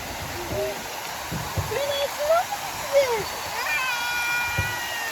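Water gushes steadily from a fountain onto a small boat on a lake, a continuous splashing hiss with children's voices and squeals on top of it.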